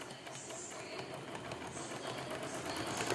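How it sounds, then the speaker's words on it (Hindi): Domestic sewing machine running steadily as it stitches a seam on a baby designer frock, a continuous close whirring hum with no talk. "इसी तरह दूसरी तरफ सिलाई लगाएंगे जी हम"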